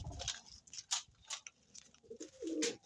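Pigeons coo at a backyard loft during afternoon feeding, soft repeated calls close by amid light clicks and ticks, with a louder cooing burst near the end.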